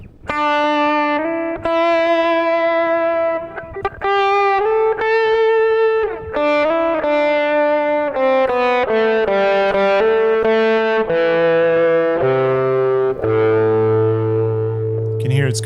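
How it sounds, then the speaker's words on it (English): Sustained electric guitar notes from a Mooer GE100 multi-effects unit on a slow gear violin-like setting swell in gently with no attack, each rising like a bowed violin, playing a slow descending line with heavy effects and long reverb decay. "You can hear it's got a slow gear engaging and coming in and out there."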